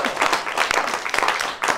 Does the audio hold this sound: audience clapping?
yes